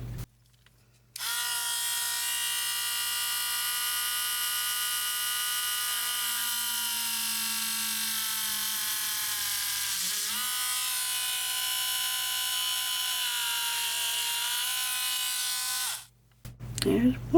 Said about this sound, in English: And I got my little drill master.